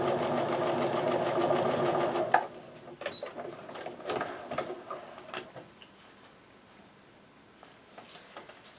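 A sewing machine runs steadily for about two seconds stitching a quilt block end piece, then stops, followed by quieter clicks and handling noises.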